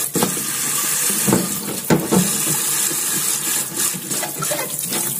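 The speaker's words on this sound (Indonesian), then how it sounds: "Tinggal dibilas aja bentar." Tap water runs steadily over a part removed from a SHARP ES-F950P GY automatic washing machine during cleaning, a continuous close rinse with light splashing and no voices.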